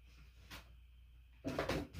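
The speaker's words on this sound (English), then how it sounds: "we'll get that last card tucked away in the drawer here" A drawer slides shut after a trading card from a diecast car package is put away inside it. There is a soft knock first, then a fuller, close rumbling slide and bump near the end.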